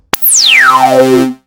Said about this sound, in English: Whoa, this is really distorted.